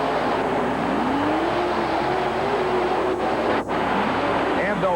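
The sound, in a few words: monster truck engines pulling to the starting line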